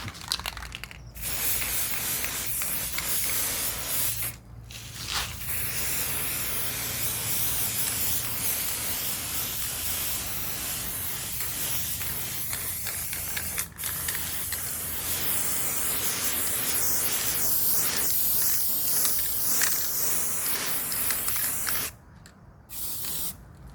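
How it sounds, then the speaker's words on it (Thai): Spray paint hisses steadily from an aerosol can onto a newly welded steel work table, a long continuous loud spray broken by a few short pauses, with no talking. "อยากให้สวยงามก็ แค่ซื้อสีกระป๋องสเปรย์มาพ่นนะครับ ซื้อมาพ่น"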